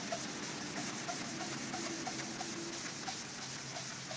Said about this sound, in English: What we're doing is sanding off completely the crud off of this headlight